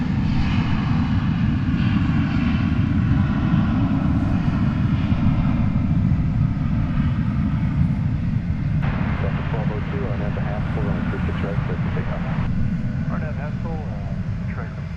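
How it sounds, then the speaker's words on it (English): An American Airlines Airbus A321 jet departs for Tucson at Dallas Fort Worth airport, its engines a loud, steady roar sustained throughout, with radio chatter and voices talking over it. "American Flight 584 is going to Tucson, Arizona, in Airbus A321"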